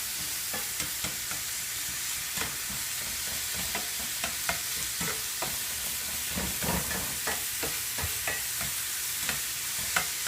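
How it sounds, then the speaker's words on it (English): Ground beef seasoned with black pepper and garlic salt fries in a pan with a loud, continuous sizzling hiss, broken by scattered scraping stir taps. "So that ground beef is starting to cook"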